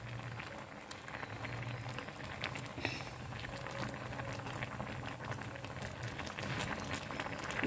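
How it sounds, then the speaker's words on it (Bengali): Whole tomatoes and green chillies boiling in a pot, a steady low bubbling and simmering hiss that runs softly and continuously throughout, with no voices over it. "তো আমি এখানে গোটা টমেটো সেদ্ধ করে নিচ্ছি ভালো করে।"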